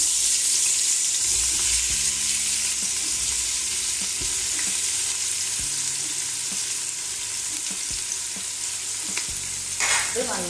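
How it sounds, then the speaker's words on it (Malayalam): Large onions sautéing in ghee for chicken biryani, a loud steady frying hiss with occasional spoon knocks and a brief scrape near the end, no talk. "നമുക്കിതിൽ വലിയ ഉള്ളി വാട്ടണം."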